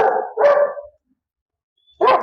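A large dog, a Rottweiler-type male, barks loudly and close by: two harsh barks in quick succession, a short silence, then another bark.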